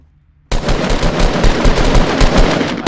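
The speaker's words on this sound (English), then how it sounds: "We're getting shot at." Rapid automatic gunfire in the Fortnite video game starts abruptly after a short silence, then runs as a loud, dense burst of shots with a fast, uneven rhythm.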